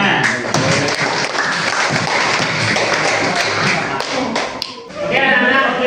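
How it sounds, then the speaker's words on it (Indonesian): Students in a classroom applaud a group during a teaching performance exam, producing loud, dense, close clapping with some tapping and thumps that continues for several seconds, then fades briefly before a burst of noise at the end. "Tepuk tangan."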